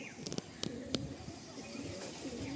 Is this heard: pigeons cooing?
yes